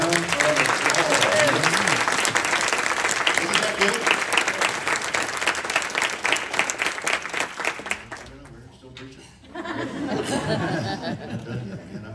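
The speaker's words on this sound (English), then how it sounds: "Let's give him a round of applause" A church congregation claps in sustained, dense applause for about eight seconds, mixed with cheering and chatter, then it dips briefly before voices and scattered clapping return.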